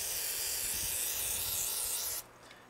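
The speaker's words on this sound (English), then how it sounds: "Now when I rinse the stone off," Running water rinses a sharpening stone used for pruning tools, a loud, steady broadband hiss that cuts off abruptly near the end and leaves quiet room tone.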